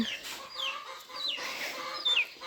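Hens cluck and call beside a rice mill in a farmyard, with three or four rising, squawky calls over a steady background, close and fairly loud, with no talking.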